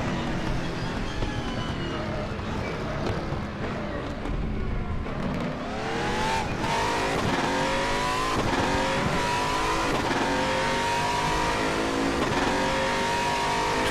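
A race car engine in RaceRoom Racing Experience revs hard and accelerates through the gears, a loud continuous rising whine with shifts and brief tire noise.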